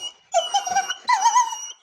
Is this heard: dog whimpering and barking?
yes